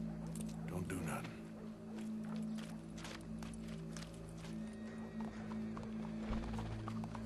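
Horse hooves clip-clopping in the Western video game Red Dead Redemption 2, faint and steady beneath a low humming background, with a voice speaking over part of it.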